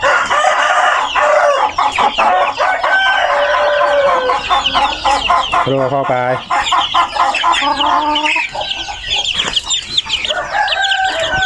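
Hens cluck busily and baby chicks peep in a dense, close chorus, with a voice speaking briefly among them.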